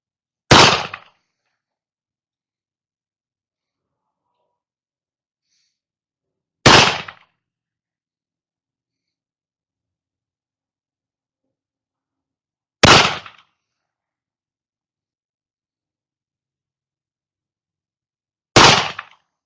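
Four single shots from a Colt pocket revolver fired at a target, each a sharp loud crack spaced about six seconds apart with near silence between, no talking.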